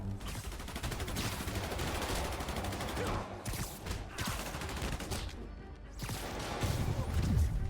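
Rapid bursts of automatic gunfire rattle almost continuously in a Spider-Man video game, dense and loud, with crashes and impacts mixed in and a short lull before firing resumes.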